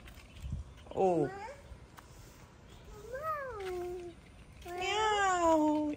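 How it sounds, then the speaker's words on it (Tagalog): A cat gives three drawn-out meows with rising and falling pitch, spaced a second or two apart, close by in a quiet home. "Meow. You say cat."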